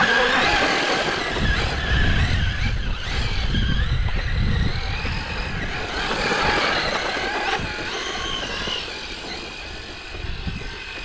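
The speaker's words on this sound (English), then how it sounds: "we are outside with this 8S HPI Baja beast. Let's go ahead and give her a rip." An HPI Baja 5T large-scale RC truck on 8S LiPo power drives on dirt and snow, its electric motor whining steadily and fairly loud with bursts of throttle, tire scrabble and rumbling chassis noise throughout.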